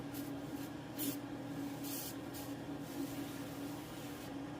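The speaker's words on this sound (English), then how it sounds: "And I'm just going to spray this in here." Several short hissing sprays of disinfectant from a spray bottle into a mushroom-growing monotub, in quick bursts, close by, with a faint steady hum underneath.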